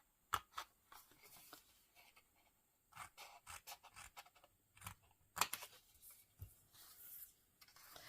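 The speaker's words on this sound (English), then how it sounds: "So I'm going to cut off these two," Scissors cut through card while an advent calendar is made from a 12 days of Christmas box: a few quiet, scattered snips and scraping rasps, close by, with pauses between them and no talking.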